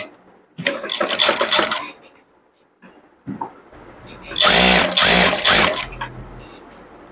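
Sewing machine stitching two folded fabric pieces together, heard as two bursts of rapid mechanical whirring, the second louder and longer, separated by a quiet pause.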